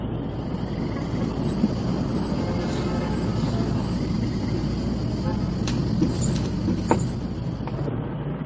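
A moving vehicle rumbles in a steady, loud, unbroken drone with a few thin high tones near the end.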